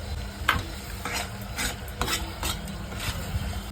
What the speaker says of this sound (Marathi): त्याच्यात आता घालते मी कांदा खोबरं भाजलेलं